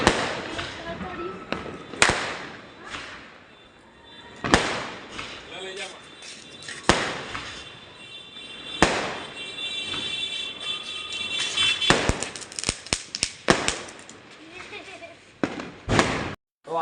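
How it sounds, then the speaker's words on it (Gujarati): Diwali firecrackers bursting outdoors, a series of sharp loud bangs spaced irregularly, some close and some farther off, with crackling bursts near the end and voices talking between blasts. "આપણે દિવાળીમાં ફટાકડા ફોડ્યા"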